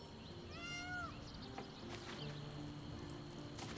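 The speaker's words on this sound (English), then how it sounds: "Was there a cat?" A cat gives one clear, rising-and-falling meow near the start over a faint, steady hum of background noise. Quieter, indistinct sounds follow, and no one speaks.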